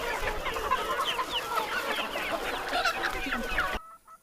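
Chickens on a farm fed live black soldier fly larvae cluck continuously in a busy, close chorus, with soft overlapping calls and faint background noise throughout.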